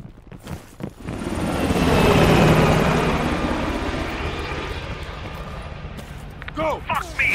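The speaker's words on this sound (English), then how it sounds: "The chopper got away!" A helicopter's rotor roar swells up loud and steady as it takes off, then slowly fades as it moves away, with shouting voices breaking in at the start and end, in the video game Call of Duty: Black Ops Cold War.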